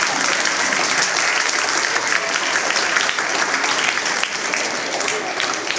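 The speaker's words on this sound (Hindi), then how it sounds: "जोरदार तालियों के साथ" Loud, sustained applause from an audience at a school speech competition on the Prophet's life, dense clapping running continuously and easing slightly near the end.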